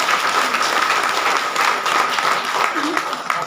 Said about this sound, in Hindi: रमेश के लिए एक बार ताली बजाते।